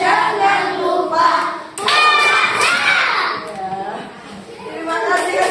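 Children clap out a rhythmic Indonesian fasting-themed clap chant (tepuk puasa), sharp bursts of claps mixed with their lively voices and chanting, close and loud.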